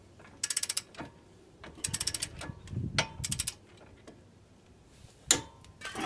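A ratchet wrench turns the hub bolts on a 2013 Chevy Traverse during front bearing hub replacement, three quick bursts of crisp clicking close up with light clanks and handling noises between them.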